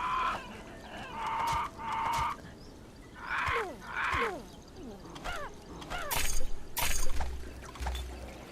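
Chickens cluck in a video game, with bursts of clucking and rooster-like crowing calls repeating over several seconds against a faint background, getting louder toward the end.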